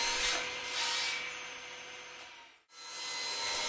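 A wooden table apron rail is cut to length, giving a loud, close, continuous rasping buzz of a blade through wood that drops out abruptly for a moment before the cut resumes; no speech.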